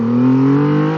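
A Triumph Rocket 3 GT motorcycle accelerating on twisty roads, a loud close engine drone with a rising pitch over about one second.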